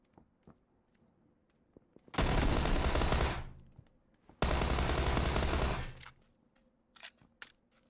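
Suppressed S12 shotgun fire in a video game comes as two sustained bursts of rapid shots, each about one to two seconds long, loud against a quiet background with scattered faint clicks and taps between them.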